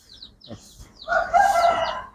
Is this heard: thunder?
no